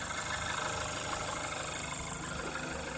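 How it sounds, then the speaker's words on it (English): 2014 Hyundai Elantra GT engine idling steadily, a constant close hum with a fine rapid pulse and faint hiss throughout, no talk. "here is the engine running"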